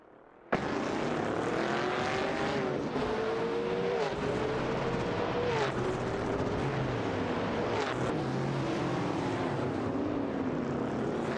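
Race cars roar continuously in a racing video game, a Holden and a BMW CSL 3.5 among them, the engine notes climbing and dropping through gear changes, loud and close without voices.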